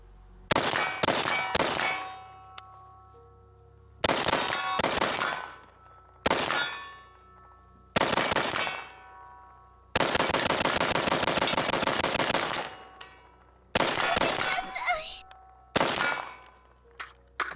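Rapid rifle fire at steel targets from about 70 yards, a fitted RMR sight on the rifle, in sharp bursts of cracks with bright metallic clangs ringing after them, several strings of quick shots separated by short pauses.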